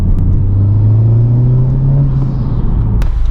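A 2021 Honda Civic Type R fitted with a PRL intake accelerates past up close, a loud, steady engine roar holding a sustained rising note.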